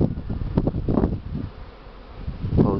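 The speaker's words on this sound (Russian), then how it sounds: "Сильный ветер, много пчел на это," An early-season swarm of honeybees buzzes close by on the grassy ground in strong wind, a dense droning hum with rising and falling swells, no voices.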